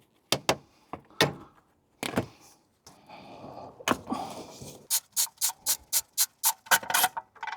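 Plastic clips popping and a connector unplugging from the ABS wheel-speed sensor cable behind the hub of a Mercedes SL R230, a string of sharp close clicks and rattles, ending in a fast run of evenly spaced snaps.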